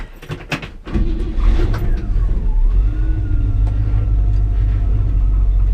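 A 1965 Chevrolet C10 pickup sets off on a test drive after an adjustment: a few sharp clunks come first, then the engine's steady low rumble builds and carries on, with a faint rising whine above it.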